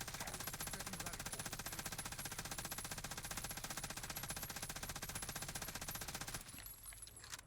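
Sustained MG34 machine gun fire in Warzone, a rapid steady stream of shots lasting about six seconds before cutting off abruptly, leaving a brief tail of echo.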